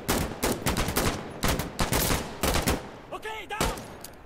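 Sniper rifle and other gunfire in the video game Insurgency Sandstorm, a string of loud close shots and short volleys with brief gaps between them.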